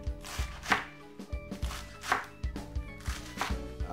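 Knife chopping through lettuce on a cutting board for a jerk chicken salad, a steady run of close, crisp thuds in an even rhythm.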